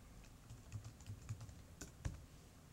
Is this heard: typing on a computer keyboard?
yes